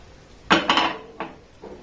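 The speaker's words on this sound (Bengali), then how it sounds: "এবার ফ্রাই প্যানটাকে ধরে এইভাবে একটু ঘুরিয়ে নেব।" A frying pan of kalo jamun sweets made from wheat flour, swirled in hot oil on a low flame: two close metallic scrapes and clanks, then two fainter knocks, with no talk.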